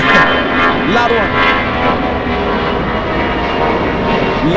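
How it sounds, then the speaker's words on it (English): A loud airplane passes close overhead at LAX, Los Angeles International Airport, its broad engine roar steady and strong throughout, with brief talk over it near the start. "Loud plane."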